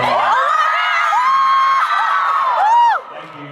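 A VidCon 2014 panel audience screams and cheers loudly together, a dense sustained crowd roar with high shrieks and whoops throughout, dropping off sharply near the end.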